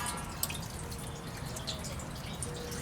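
Water dripping and trickling into the water pan of a charcoal cooker set up for Memphis-style ribs, with small close splashes over a steady low background.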